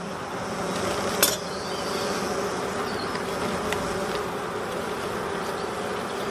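Honey bees hum around an open beehive frame during a varroa mite treatment, a steady close-up drone with a few sharp clinks and taps from handling the hive, no talking.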